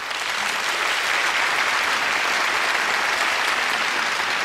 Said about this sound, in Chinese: 我们先为刘家勇和穆岩鼓掌啊。